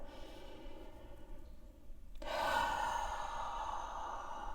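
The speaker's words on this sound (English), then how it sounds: "as you slowly, fully exhale" A slow, full exhale during a posture breathing exercise, one long breath out of steady rushing air, close and soft with no talking.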